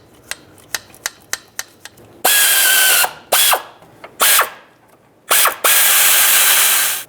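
Toyota 4Runner serpentine belt tensioner bolts being snugged with a hand ratchet: several quick clicks, then long bursts of loud, close ratcheting in stop-start runs.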